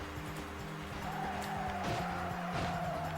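Cars racing in The Getaway: Black Monday video game, with steady engine drone and rising and falling engine pitch, tires squealing and skidding through turns, loud and continuous throughout.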